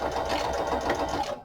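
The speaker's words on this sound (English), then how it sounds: "So let's try just a straight stitch." A Singer Fashion Mate sewing machine runs a straight stitch through paper, a steady close whirring hum that holds for a moment and then stops.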